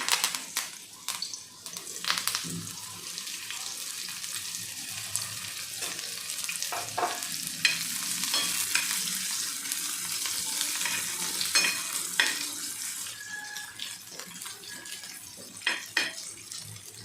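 Onion, spring onion and curry leaves crackle and sizzle in hot oil, close and steady, with scattered sharper pops and occasional spatula scrapes against the pan over about seventeen seconds, no talking.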